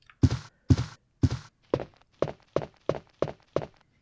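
Footsteps on a hardwood floor in Resident Evil 2: nine evenly spaced, fairly close thuds, the first three heavier and the rest lighter, walking steadily with nothing else over them.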